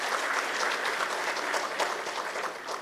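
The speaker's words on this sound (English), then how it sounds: "please give them a generous round of applause" Steady applause from a conference audience after a panel on startup growth funding, a dense, even wash of many hands clapping at moderate volume throughout.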